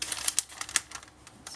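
Scrapbook board being cut for a rigid two-section folio gives a short run of crisp, quiet clicks and scrapes, irregular and close, with no talking.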